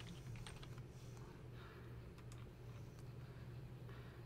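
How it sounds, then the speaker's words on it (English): Typing on a computer keyboard while entering a last name into a Microsoft Word document header, heard as a soft, rapid run of clicks through the clip over a steady low hum. "type my last name"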